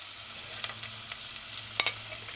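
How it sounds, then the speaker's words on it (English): Chopped onions sizzle steadily in hot oil for a vegan asparagus coconut stew, with a few soft scraping stirs breaking through the continuous frying hiss, close and alone. "Add the chopped, sliced or diced onions. Stir it in a few times. Allow it to saute light golden brown on the edges."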